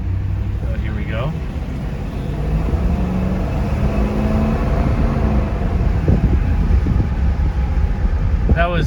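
A 1967 Buick Riviera accelerates at roughly two-thirds throttle, a loud, steady engine roar rising in pitch from the driver's seat, with a voice briefly over it near the end.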